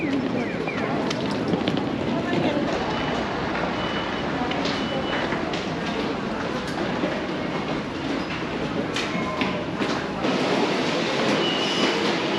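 A train rolls toward Tokyo's main railway station with a steady, loud rumble and rattle of the carriages, faint clicks and a background voice over the continuous ride noise.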